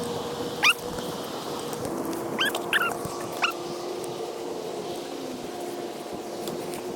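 Fishing dogs on a boat outing on the San Joaquin Delta let out a few brief, high whimpers, scattered over a steady low engine or wind hum.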